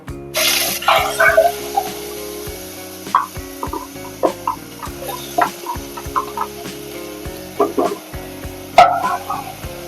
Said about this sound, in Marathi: आता ही कांद्याची पेस्ट आपण यात ऍड केली आहे. ती आपण व्यवस्थित परतून घेऊया